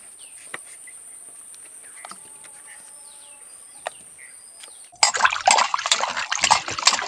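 Raw mangoes are washed in water. Quiet outdoor ambience with insects and birds gives way halfway through to close, loud splashing and sloshing as the mangoes are rubbed in water.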